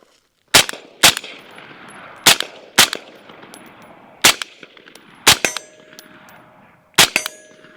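Gunshots strike steel targets at a night-time range drill, about eight or nine sharp, loud reports spaced a second or so apart, each followed by a ringing metallic clang.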